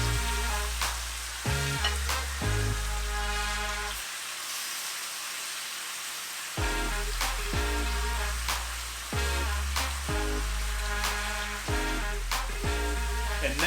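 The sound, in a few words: oxtail pieces sizzling while browning in a pan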